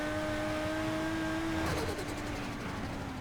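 A modded Nissan GT-R engine in Need for Speed: steady high drone that shifts into a rapid fluttering burst partway through, then settles lower; loud, close, and without any voices.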